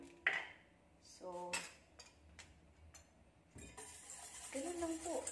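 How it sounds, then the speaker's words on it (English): Egg yolks are beaten in a bowl, with scattered clinks of utensil against bowl and soft scraping. The sounds are faint and intermittent, and a voice is heard at times. "itong egg yolk na to, kailangan i-beat po natin. Mix lang. Haluin lang."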